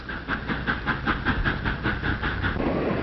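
A train rumbles along the rails with a steady, rhythmic clickety-clack and a hissing wash of noise, loud and close, with no voices.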